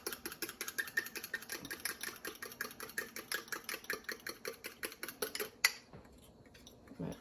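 Chicken soup ingredients mixed in a bowl, a utensil knocking and scraping in a quick regular rhythm for several seconds before stopping abruptly, close and moderately loud with no talking.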